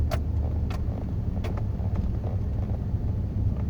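A four-wheel drive car rolls along a road, heard from inside as a steady low engine and road rumble with a few light knocks and rattles over the top.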